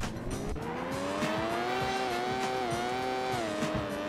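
A high-revving Porsche race car engine in the PS1 game Need for Speed: Porsche Unleashed drones continuously toward 9,000 RPM, its pitch rising and dipping slightly with shifts, steady and close.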